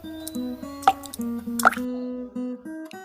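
Water dripping, a short series of distinct plopping drops at irregular intervals, close and clear with nothing else around them.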